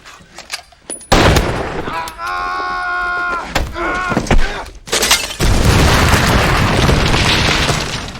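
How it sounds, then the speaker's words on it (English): An explosion deep in a WWI mining tunnel erupts as a sudden heavy boom, followed by a sustained roaring rumble with debris crashing, after a stretch of quieter scraping and a tonal whine. "There had been an explosion in Tunnel 102."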